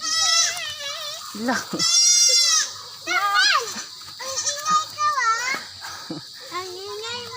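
A baby goat bleats repeatedly at close range in loud, wavering cries, with high quavering calls coming one after another. A person speaks briefly between the bleats.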